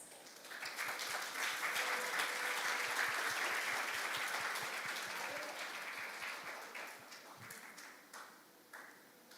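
An audience at a youth international forum on global citizenship applauds a student team, the clapping swelling early, holding steady, then thinning out toward the end.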